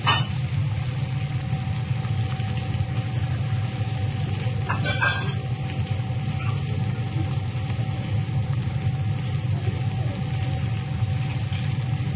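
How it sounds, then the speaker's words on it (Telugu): Long-sliced onions sizzle steadily in a pan as they fry toward golden, a dense continuous hiss with a brief stir or clatter partway through. "దోరగా ఫ్రై చేయాలి."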